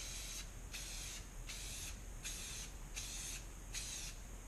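A spray can lays a thin mist over a vinyl layer in six short, evenly spaced hissing bursts with brief gaps between them, close and fairly quiet, with no talking.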